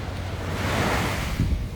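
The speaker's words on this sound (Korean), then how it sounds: "여기 이렇게 거품이 일어나잖아 파도가 이렇게 치는" Ocean waves breaking and foaming on the shore, a close, steady rushing wash of surf with wind noise on the microphone, no talking.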